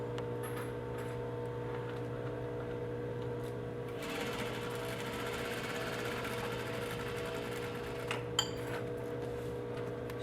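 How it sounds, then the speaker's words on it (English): A sewing machine hums and stitches steadily while sewing stability lines on a double welt pocket with the pocket bag attached. The steady mechanical whir runs alone throughout, with a faint click near the end. "So these are the next lines we're going to stitch."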